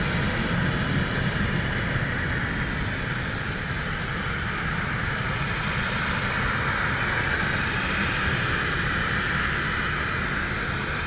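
Airbus A330 jets taxiing at Dublin Airport during reverse operations on runway 10R, producing a continuous, steady engine roar and broadband hiss with no breaks, heard from a distance with no voices.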